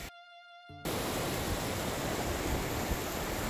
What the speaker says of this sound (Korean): 아까 봤던 저 폭포가 유한폭포였습니다.